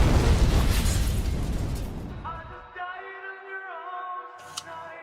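A loud bomb blast roars and decays over about two seconds in a TV trailer, followed by a quiet tonal music sting and a brief sharp hit.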